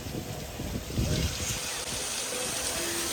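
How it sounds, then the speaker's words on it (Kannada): Water sprays at a fountain pond in China while light rain falls, producing a steady close hiss and splash with a slight surge partway through. "ಅಲ್ಲಿ ನೀರು ಎರ್ಚ್ತಿರೋದಲ್ಲ"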